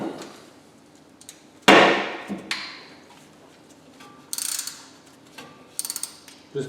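Socket ratchet clicking on the alternator bracket bolt of a 1965 Impala SS with a small-block 283, heard as a few short bursts of clicks and metal clatter separated by quiet pauses.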